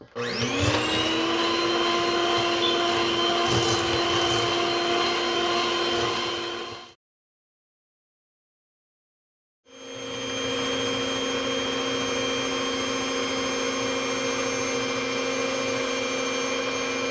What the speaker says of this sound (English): I added it to my mixer so I could get a good mix on